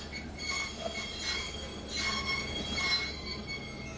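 Thal Express train pulling into small Makkhad Road station on a curved platform, a low rumbling roll with faint metallic clinks and squeals, steady and moderately distant.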